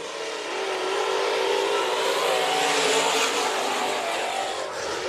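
Several race cars on the Bakersfield Speedway oval during a heat race restart, a steady broad engine roar sustained throughout at moderate distance, with no voices over it.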